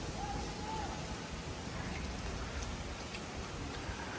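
Steady rain falls outdoors, a dense, even hiss of drops hitting surfaces that stays constant and moderately loud without pause.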